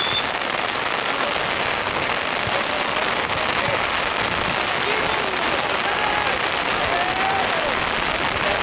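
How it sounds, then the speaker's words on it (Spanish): Rain falls steadily at an outdoor school football match, a dense loud hiss of drops on surfaces, with faint crowd noise and occasional voices beneath it. "Comenzó a llover justo en el segundo tiempo."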